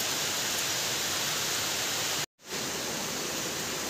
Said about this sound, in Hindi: कल शाम 9 बजे से बारिश हो रही है, अभी सुबह तक